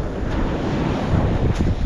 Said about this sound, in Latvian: Baigie viļņi, man kad es skalo iekšā